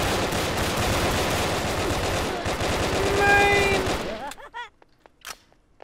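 Rapid gunfire in the first-person shooter Brick Force, a dense loud barrage of bursts for about four seconds before cutting off, leaving a few faint shots and clicks in near silence.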